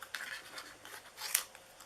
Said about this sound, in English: I'm going to go ahead and cut out the bat